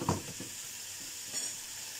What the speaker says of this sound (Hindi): चले देखिए, गोश्त अच्छी तरह फ्राई हो गया।